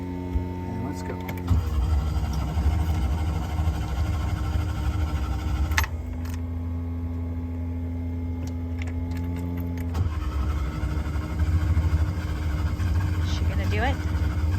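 Boat engine running and changing pitch as throttle is given during a sailing lesson at a resort, a loud close droning hum with shifting tone, and a person talks over it.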